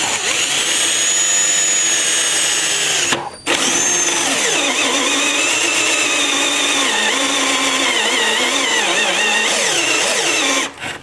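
A power drill whines loudly and continuously, briefly stopping once before spinning back up and running steadily again, while installing protection parts on a 2025 Kawasaki Ridge Crew side-by-side.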